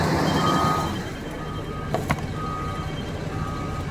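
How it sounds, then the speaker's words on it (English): A large pump truck running at a work site, its engine droning steadily in the background, with tonal beeps sounding intermittently and a couple of sharp knocks partway through. "That's a big old pump truck."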